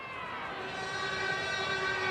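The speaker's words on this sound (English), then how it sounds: "Half-time siren has sounded." A sustained half-time siren sounds at a 2001 Canterbury vs Brisbane rugby league match, a steady droning tone with crowd noise beneath it.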